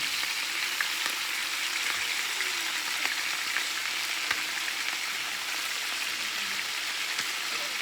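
Chicken pieces fry in a hot pan with a steady, close sizzle and scattered small pops of spitting oil, continuous throughout with no talking.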